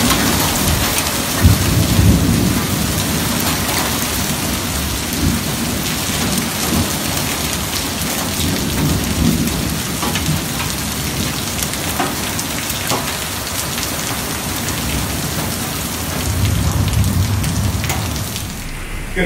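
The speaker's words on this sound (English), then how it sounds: "That's some crazy rain." Heavy spring storm in Spring Branch, Texas, with steady loud rain and hail pounding surfaces outdoors and low rumbles of thunder rolling through several times, no voices.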